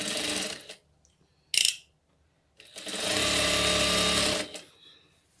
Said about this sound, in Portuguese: Vou passar uma costura reta aqui toda nela